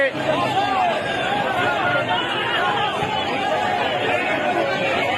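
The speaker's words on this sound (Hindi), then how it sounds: "ये अवाम, ये भीड़ जो आप देख सकते हो इस वक्त" A large crowd of PTI workers gathers outdoors at the Peshawar workers convention, producing a dense, steady babble of many voices close by, with individual shouts rising from the mass of chatter.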